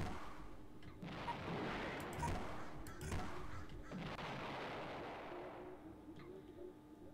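Explosions and weapon fire in the video game Battle Engine Aquila, a string of booming blasts with rumbling decay layered over dense battle noise, moderately loud and continuous.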